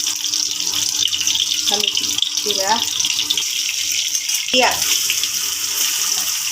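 Oil and chili going into a hot pan for a hilsa fish and taro leaf dish, giving a loud steady hiss and sizzle throughout, with a few brief voiced bursts of talk over it.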